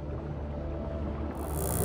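Killer whales hunting a stingray give soft, faint chirping calls underwater over a low, muffled, steady wash of water.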